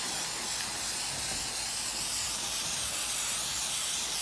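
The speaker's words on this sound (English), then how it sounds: "And spray glue is definitely needed. I'm going to spray this." A continuous, close hiss of spray glue from an aerosol can, steady and unbroken for several seconds with no talking, during repair of down wrap on a cushion.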